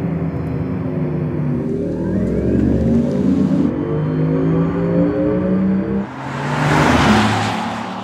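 A Porsche Macan Turbo electric car accelerates with a rising, layered electric-motor whine close by, then a loud rush of wind and road noise swells near the end.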